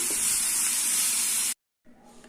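Egg kothu parotta masala sautéing in a pan on a medium flame, a dense steady hiss and sizzle that stops abruptly, then a short quieter patch of faint sizzle after a moment of silence.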